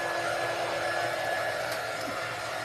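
A hair dryer blows on small craft pieces for a patriotic banner, a loud, steady airy whir with a constant motor whine, running without a break and with no talking.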